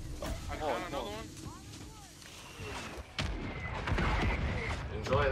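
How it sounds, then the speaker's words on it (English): Mortar strike explosions rumble in Call of Duty Warzone 3.0 on PS5, with booming impacts building toward the end amid game sounds, while a player talks over them. "Mortar strike inbound"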